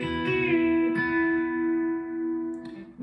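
B-bender electric guitar playing a lick, sustained clean notes with string bends that rise and settle, ringing close and clear with no talking until a final pick attack.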